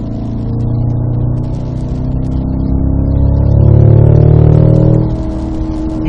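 A Cadillac CT5-V Blackwing with a six-speed manual on a wet track at Spring Mountain, Pahrump, its engine droning loud and steady from inside the cabin, then swelling louder as the throttle opens before easing back.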